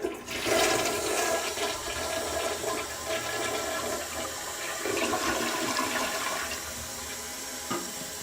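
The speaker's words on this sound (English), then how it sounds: "I'm gonna flush it." A toilet being flushed after a Fluidmaster fill valve was replaced, with a close, loud rush of water that swirls and drains steadily, then settles into a quieter refilling hiss.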